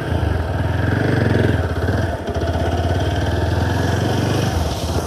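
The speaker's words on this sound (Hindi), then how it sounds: "बाइक को करते स्टार्ट." A motorbike engine runs close and loud with a steady, rapid putter and metallic clatter, holding an even idle for several seconds with no talking.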